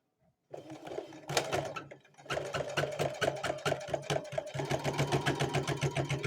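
A sewing machine runs a 5/8-inch seam on a homemade quilt, starting after a brief silence with a pause and then settling into a close, steady rapid clatter of the needle.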